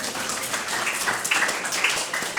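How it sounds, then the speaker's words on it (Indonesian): An audience applauds after a speech at a live event, a steady wash of many hands clapping at moderate distance, continuous for a couple of seconds with no voices over it. "Tepuk tangan sekali lagi untuk Pak Ilham, pembina medik kita."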